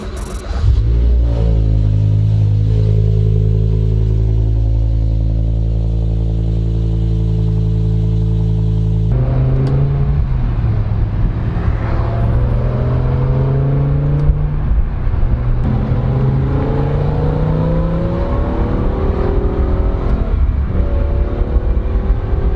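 A BMW M5 with a V10 engine and SMG gearbox cold-starting: a loud rumbling idle with strong low harmonics, then revs rising and falling through several blips, close and steady throughout with no talk.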